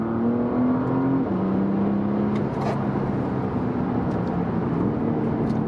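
A Porsche Panamera 4S E-Hybrid accelerates in sports response mode, its engine droning loudly and steadily from inside the cabin, with the pitch climbing, dropping at a gear change, then holding a sustained hum.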